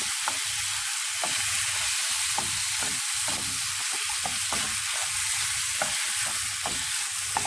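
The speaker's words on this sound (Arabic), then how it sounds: "احنا دابا تنشحروا الدجاج بالملحه والابزار" Chicken sears in oil with salt and spices, a loud close sizzle broken by rhythmic stirring scrapes at roughly every half second throughout.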